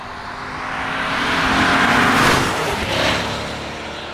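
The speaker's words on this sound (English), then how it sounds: "just a naturally aspirated V8 trying to find grip on winter rubber" A 2025 Lexus IS 500 with a naturally aspirated V8 on winter tyres revs up hard, its engine note swelling to a loud peak and then easing off again, with no voices.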